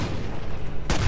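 A shotgun blast goes off in Far Cry 5's zombie DLC, Dead Living Zombies: one loud, sharp boom near the end of a busy stretch of game noise, with a dense low rumble running underneath the whole time.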